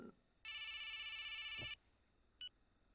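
A phone rings once with a bright electronic tone lasting over a second, followed by a short chirp, faint and in a quiet room.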